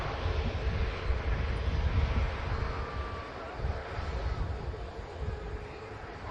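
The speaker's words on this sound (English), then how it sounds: "Could be a long roll out, takeoff roll from this 73." A Boeing 737 on its takeoff roll at Manchester Airport gives a steady, fairly distant jet engine roar mixed with wind noise on the microphone, holding level throughout.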